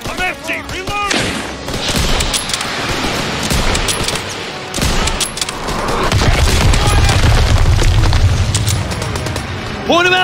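Heavy booms from a grenade explosion and dense gunfire of a World War II battle in Call of Duty: WWII, loud and continuous, with several voices shouting over the fighting.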